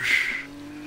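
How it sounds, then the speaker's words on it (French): A Formula 2 car engine in a racing video game at Bahrain gives a brief, high, whining tone that fades quickly over a low steady hum. "Le moteur Medusa qui se rapproche dangereusement de Soulja Moon"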